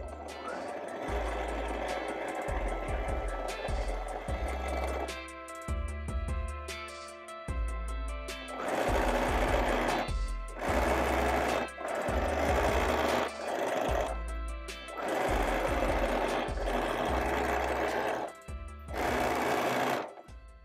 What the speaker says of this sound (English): On your outer shell pieces, with right sides together, sew the side seams